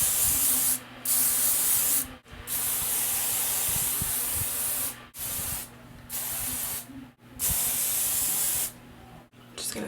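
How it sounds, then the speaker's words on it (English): Several long bursts of dry thickening hair spray hiss close by, separated by brief pauses, over a low steady hum. "Go back in with our dry thickening spray."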